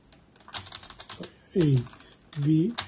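Close, rapid clicks of typing on a computer keyboard, an irregular clatter of keystrokes that runs throughout, with two short stretches where a voice talks over it.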